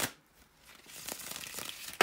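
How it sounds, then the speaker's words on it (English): Soft papery rustling and crinkling of tarot cards being shuffled, faint and intermittent, ending in a sharp brief snap. "bear with me a second, guys, to shuffle the tarot cards"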